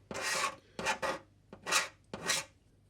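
A blade scraping moulding seams off the hull of a Trumpeter 1/200 scale plastic model ship, five raspy strokes in an uneven rhythm, close and fairly loud with no talking.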